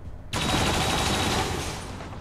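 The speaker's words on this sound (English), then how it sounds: "He's gonna get shot at." Gunfire aimed at a soldier in XCOM 2: a sudden loud burst begins after a short quiet lead-in, then continues as sustained rapid shooting that eases slightly toward the end.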